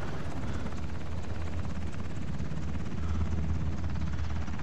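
A helicopter in the battle royale video game Ring of Elysium, a continuous loud rotor thump and engine drone that holds steady throughout with no talking.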